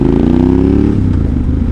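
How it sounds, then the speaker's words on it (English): A Yamaha T700 motorcycle's exhaust gives a loud, close, low grumble that rises slightly and then settles, with no talk. "That exhaust sounds pretty mad. Like it's a low grumble, but when you accelerate it sounds cool as heck."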